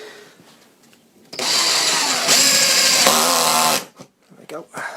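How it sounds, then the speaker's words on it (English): A power drill drives a self-countersinking screw into a pilot hole, its motor whining loud and close in one sustained burst of about two seconds, rising slightly in pitch partway through. Quiet handling noises come before and after. "Turbo screw, shove that in there, pilot hole, self-countersinking these screws anyway"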